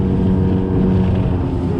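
Loud, steady drone of a motorboat engine running on the water during an autumn perch fishing trip, a continuous low rumble with no talking.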